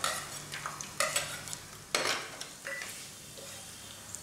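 Garlic sautéing in a clay pot for Tamil egg curry, with soft frying hiss broken by several bursts of stirring scrapes and clatters against the pot.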